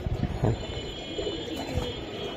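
A male racing pigeon gives a low, soft coo, brief and close, against a quiet background hum.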